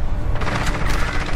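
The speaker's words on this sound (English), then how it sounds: "I got blowed up!" Explosion in Call of Duty Warzone, a loud close blast with crackling debris and rumbling low end filling the whole moment.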